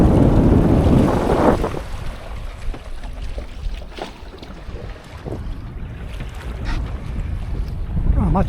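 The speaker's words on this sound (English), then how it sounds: "So now we have the wind just after the beam." Wind buffeting a microphone aboard the sailboat Spellbound after rounding Dennes Point, North Bruny, Tasmania, loud gusty roar with water rushing along the hull, easing in the middle then rising again.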